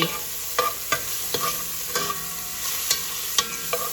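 Sliced meat sizzles in a pot for sopas as a utensil stirs it, with regular scraping knocks about every half second over a continuous frying hiss, close by and without talk.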